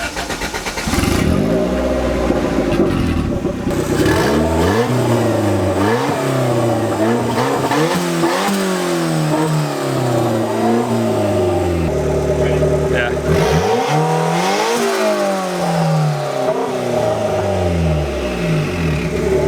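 A loud turbocharged Honda Civic engine revving up and down over and over, pitch climbing and falling in repeated surges, close and continuous.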